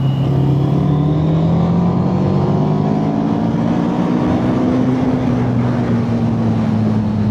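KTM 990 Duke twin-cylinder motorcycle accelerating in fourth gear from 3500 rpm, its loud engine note climbing steadily with wind rush, heard continuously from on the bike.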